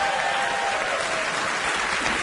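Studio audience applause on a late-night talk show, a dense, even wash of many hands clapping that holds steady and loud from start to finish with no pause.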